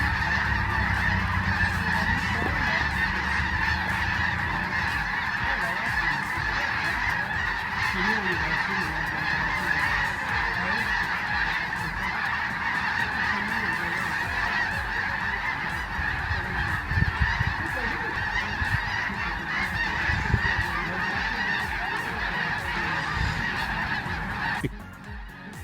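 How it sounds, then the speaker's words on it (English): Canada geese flying in a V formation overhead, honking continuously in a loud, steady chorus of overlapping calls that carries on for about twenty-five seconds. "V-shaped Canada geese."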